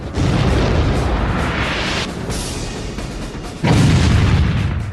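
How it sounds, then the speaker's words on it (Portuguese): Naval cannon fire and shell explosions from a battle involving the Bismarck in the Denmark Strait, loud sustained booming blasts with a sharp new burst near the end and no speech. "Balas de canhão chovem sobre o estreito da Dinamarca."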